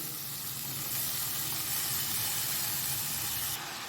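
Finely chopped pasalai keerai spinach hitting a pan of frying onions for poriyal: a loud, steady, close hiss of sizzling that holds evenly throughout, with no talking.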